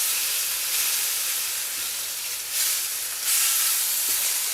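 Broccoli being stirred into beef frying in a hot wok gives a steady, loud sizzling hiss that swells briefly as the food is tossed.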